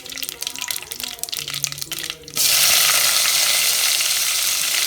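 Onions tipped into a hot pan of oil: quieter stirring and kitchen clatter give way midway to a sudden loud, steady hiss of sizzling frying that holds to the end.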